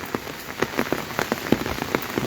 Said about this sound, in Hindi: राजधानी में सुबह 4-5 बजे के करीब से इस तरह से बारिश का दौर चल रहा है